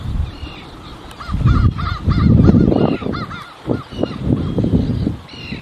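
Birds call outdoors, a run of loud repeated honking cries like geese or crows, close and rhythmic over rumbling low-frequency wind or handling noise.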